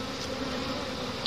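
Honey bees buzzing densely at a hive during smoking, a steady close swarm drone with individual bees flitting past, no talk.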